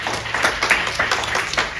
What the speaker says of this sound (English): Let's give ourselves a round of applause for just being here.